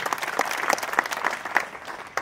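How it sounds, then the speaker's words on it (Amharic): A church congregation claps for the Lord in a steady, dense burst of applause that carries on throughout, with a slightly distant, roomy quality and no clear voices over it. "አጨብጭቡ ለጌታ ክብር ይሁን"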